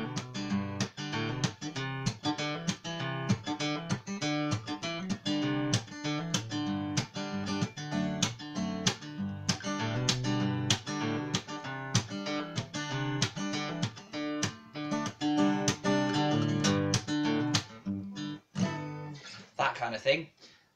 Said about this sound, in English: it's a kind of country style strumming pattern,